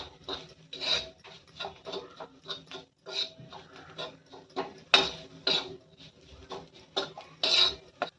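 Besan thecha, a spicy gram-flour and chili mix, roasted and stirred in a pan over a low flame, with a spoon scraping and clinking against the pan in a steady, busy rhythm close by and no talking.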